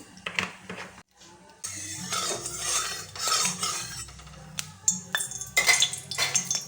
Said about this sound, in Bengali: গ্যাসের উপরে একটি কড়াই বসিয়ে দিলাম